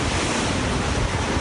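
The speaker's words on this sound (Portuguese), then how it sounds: "O vento está muito forte" Strong wind from Hurricane Irma roars loud and steady, recorded from inside a residential building's garage in Florida, a dense, continuous rush of buffeting air with no pauses.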